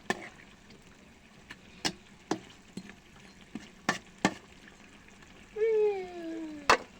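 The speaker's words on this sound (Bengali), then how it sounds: "হালকা নেড়ে চেড়ে একটু ঢাকনা দিয়ে কষাবো।" Tilapia fish for bhuna stirred and frying in a pan: a soft sizzle punctuated by sharp spatula scrapes and clacks, then a brief rising gurgle near the end, with a voice talking faintly.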